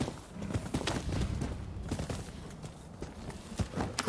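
Hooves clop on the ground in an uneven galloping rhythm, close and moderately loud, with no voices over them, from a horse in the video game Rise of the Ronin.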